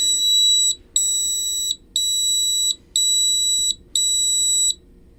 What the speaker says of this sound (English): And finally, the gas detector located down near the floor.